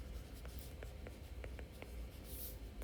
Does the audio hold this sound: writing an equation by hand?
yes